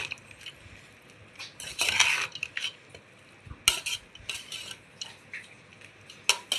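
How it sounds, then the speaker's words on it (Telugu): Tamarind rice pulihora being mixed with a metal spoon in a steel vessel, irregular scraping clinks and clatters near and fairly loud, with quiet pauses between strokes. "ఇలా ఇప్పుడైతే దీన్ని మొత్తం కలిసేలాగా కలిపేస్తాను."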